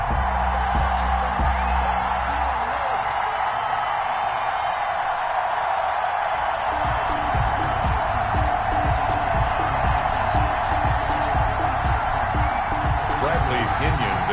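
Stadium crowd noise in a football video game, Ravens versus Buccaneers in Baltimore, a steady roar of cheering beneath continuous commentator talk throughout.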